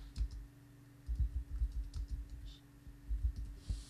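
Soft, irregular keystrokes on a computer keyboard while text is entered in a web design program, close but quiet and muffled, in short uneven runs over a steady low hum, with no voices.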